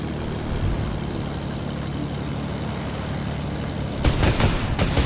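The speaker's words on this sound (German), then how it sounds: "So, ja, ein Flugzeug, das auf dich zukommt." An airplane engine drones steadily in a video game, a continuous low propeller hum that swells louder near the end with rough bursts that could be gunfire, and no talking over it.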